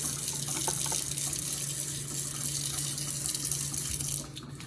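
Running tap water splashing over a Yo-Zuri fishing lure held under the stream, a steady close hiss that drops away just before the end, with no talking.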